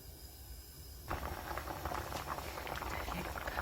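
Kabocha squash and its peel bubble in a pot of water, a dense close boiling patter that starts suddenly and stays steady and loud.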